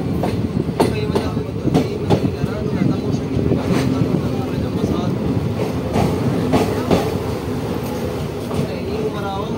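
The Delhi Haridwar Express, an unreserved train, rumbles along the rails with a dense, steady roar and rhythmic clacking over rail joints, heard from inside a moving carriage with voices faintly mixed in.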